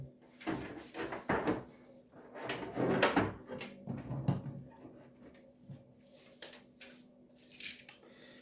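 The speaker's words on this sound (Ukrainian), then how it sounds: "І так, закриваємо кришку." The cover of a Hager Volta VA24CN distribution board is handled and shut: close rubbing, sliding and clunking plastic and metal sounds with several soft knocks, moderately quiet and uneven.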